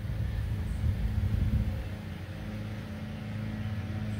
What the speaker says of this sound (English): Please excuse the lawnmower noise in the background.